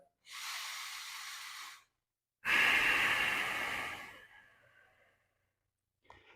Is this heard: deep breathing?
yes